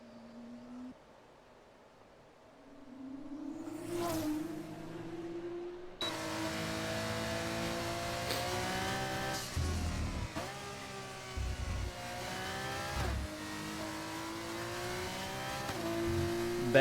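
A race car on an out lap around Imola in a sim racing game: a steady, loud engine note rising and falling through gear shifts, with a quieter idle-like hum at the start before the car pulls away.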